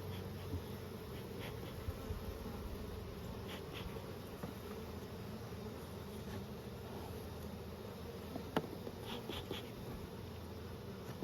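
Honey bees buzz steadily around an open hive during a queenless-hive inspection in Nymboida, with a soft, continuous hum and a few individual bees passing close.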